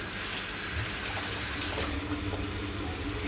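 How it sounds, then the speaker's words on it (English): Water runs from a kitchen tap as hands are rinsed mid-recipe, a steady broadband splash that continues close and fairly loud throughout, with no talking. "just rinse my hand again"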